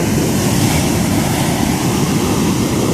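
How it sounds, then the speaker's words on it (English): Sea waves at Marina Beach in Chennai, a loud, continuous wash of surf mixed with heavy wind buffeting the microphone, steady and without talk. "So this is the Marina Beach, the beautiful beach"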